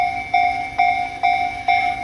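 A Tobu Noda Line 60000 series train passes a busy level crossing, with its wheels thumping over rail joints in a steady repeating rhythm beneath the sustained two-tone ringing of the crossing bell.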